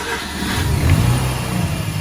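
Mazda RX8 rotary engine with new upgrades cranks and fires, catching into a rising rev before settling to a rough idle, close and fairly loud with no talking.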